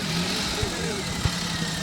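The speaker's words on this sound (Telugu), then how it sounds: "ఇప్పుడు ఇంజన్ స్టార్ట్ అయింది కదా, ఇప్పుడు ఇంజన్ చూపిస్తాను" A car engine idles steadily just after starting, a close, even mid-low hum with a few faint knocks, and a voice is talking over it.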